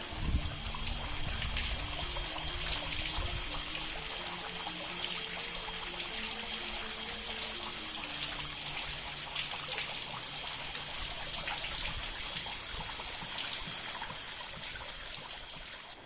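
Water trickles and splashes steadily from spouts at a Balinese holy spring bathing site, a continuous close stream with faint background tones and no talk.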